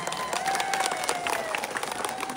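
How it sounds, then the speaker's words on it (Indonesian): An outdoor crowd at a bridge inauguration in Cibaliung claps steadily for a main donor, a dense, continuous patter at moderate distance, with faint tones over it. "Tepuk tangan buat Bapak Anies."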